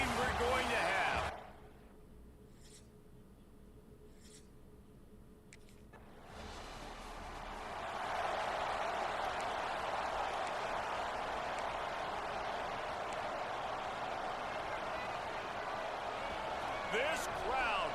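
A college football stadium crowd in a video game swells into a sustained, loud, full-throated roar after a brief quieter lead-in, holding steady to the end.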